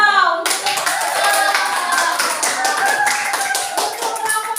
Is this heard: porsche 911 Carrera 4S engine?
no